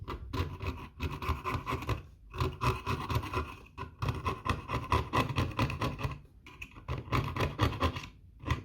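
Steady rhythmic scraping on a Realistic Moog MG1 Concertmate synthesizer under repair, in repeated close strokes with brief pauses between them.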